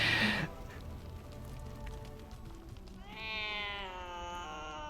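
A cat in Baldur's Gate 3 meows while being petted, a loud burst at the start and then a clear rising, drawn-out meow near the end, over soft game ambience.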